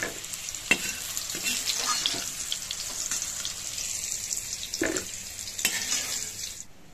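Potato pieces fry in oil with salt and turmeric, giving a constant close sizzle and crackle, with occasional scraping stirs against the pan and no voices.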